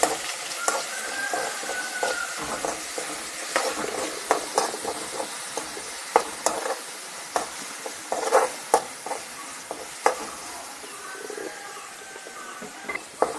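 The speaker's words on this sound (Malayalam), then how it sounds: "അതിലേക്ക് വെളുത്തുള്ളി ചേർത്ത് കൊടുക്കുക വേപ്പിലയും ചേർത്ത് കൊടുത്ത് നല്ലപോലെ മൂപ്പിച്ചെടുക്കണം" Garlic and curry leaves frying in hot oil in a pan for a vendakka (okra) curry, a continuous crackling sizzle broken by frequent spatula taps and scrapes, close and moderately loud.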